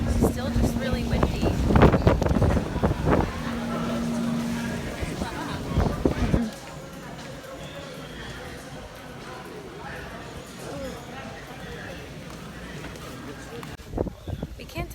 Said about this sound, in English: It's still just really windy.